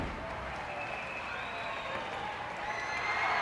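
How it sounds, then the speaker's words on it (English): Wrestling crowd applauding a victor after a submission-hold win, a steady wash of clapping and murmur that swells slightly toward the end, with an announcer's voice faintly under it. "listen to the applause for Tony Garea"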